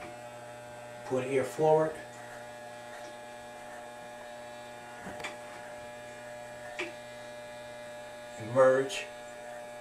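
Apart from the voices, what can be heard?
electric hair clipper running during a haircut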